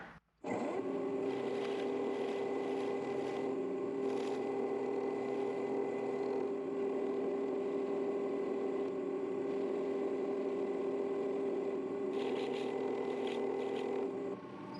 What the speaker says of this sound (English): So I'm going to buff it with this soft cloth. And I'm going to be doing this at 1000 RPM.